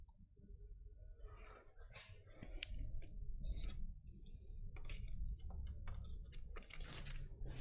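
Window tint film on a hatchback's rear window is cut with sharp, scattered snips and crisp crackles over a low background rumble, close and fairly quiet.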